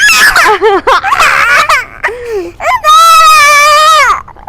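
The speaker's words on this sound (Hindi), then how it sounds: "देखो कितना बड़ा कीड़ा चढ़ गया इसके ऊपर और इसके चीखे देखो" A young girl screams and shrieks as a big bug crawls on her, with several rising and falling cries that end in a long, loud, sustained scream close to the listener.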